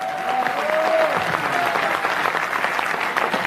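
Audience members at a business presentation clap together in a steady burst of applause, fairly loud and continuous, with a faint tone and murmur underneath.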